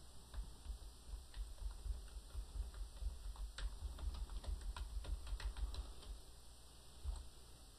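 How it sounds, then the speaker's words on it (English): Typing a short sentence on a computer keyboard: a quick, uneven patter of light key clicks, close and moderately quiet, heard alone over a steady background hiss. "I'm going to type, "This is a file I can save.""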